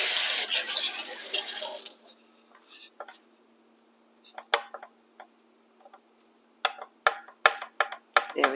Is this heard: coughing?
no